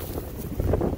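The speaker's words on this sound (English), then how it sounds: "Oh, it's windy." Steady, rushing wind buffets the microphone with low rumbling gusts, loud and close, with no voices, outdoors near a grain silo.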